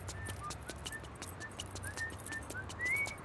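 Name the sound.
character whistling main theme in video game No More Heroes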